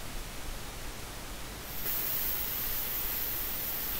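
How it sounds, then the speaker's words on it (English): Plasma cutter slicing steel to make a door catch for a homemade wood cook stove, a steady broadband hiss that grows louder partway through and holds continuously to the end, with no voices. "Here I am again with the plasma, making the door catch."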